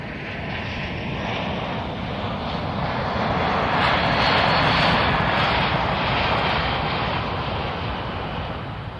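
A C-17 military transport aircraft at the 2023 Joint Base Lewis-McChord airshow fills the air with a loud, continuous jet-engine roar that swells and fades slightly as it passes.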